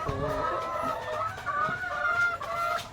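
Laying hens clucking close by in a coop, a steady chorus of overlapping clucks and calls with no talking.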